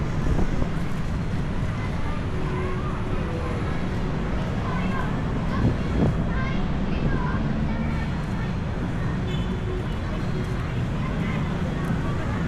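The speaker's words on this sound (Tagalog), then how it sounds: "Mahangin kasi ang daming mga trees." Steady wind buffets the microphone with a low, rumbling roar that persists throughout, outdoors among trees at South Park Center, Muntinlupa City. Faint voices can be heard underneath.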